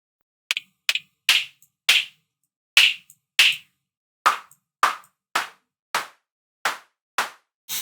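An analogue-style drum-synth clap built from noise shaped by a decaying envelope strikes about thirteen times in a steady loop. Each hit is a crisp, bright burst with a quick tail, loud and isolated against silence.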